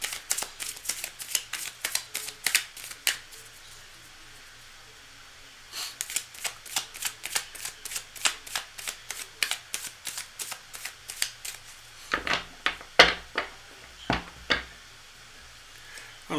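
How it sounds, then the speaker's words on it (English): Playing cards shuffled by hand for a live reading, quick rapid-fire riffles in repeated bursts separated by short pauses, close and crisp with no talking. "I'm just going to shuffle a tiny bit more so I feel really tuned in."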